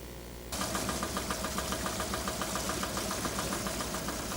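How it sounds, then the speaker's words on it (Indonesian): An engine-driven water pump runs beside rice paddies in Aceh Besar, its motor chugging in a steady, fast, knocking rhythm that starts abruptly and then holds at a loud, even level throughout. "Petani harus menggunakan mesin penyedot air untuk mengaliri air ke area persawahan."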